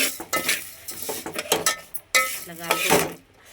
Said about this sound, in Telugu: ఇదిగోండి, ఇందులోనే సేమియా వేసేసిన, వేసి వేంపుకుంటున్నా చూడండి.